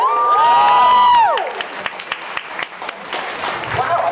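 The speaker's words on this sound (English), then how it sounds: "I think that got bigger applause than Day of the Doctor." An audience at a Doctor Who 50th anniversary event breaks into applause and cheering after a loud whistling sweep, the clapping crowd continuing under scattered voices.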